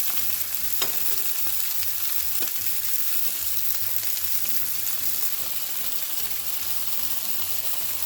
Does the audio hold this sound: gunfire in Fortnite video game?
no